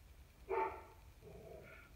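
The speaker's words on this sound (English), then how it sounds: "There's my dog barking in the background." A dog barks once indoors, soft and somewhat distant, followed by a fainter second bark or yip in a quiet room.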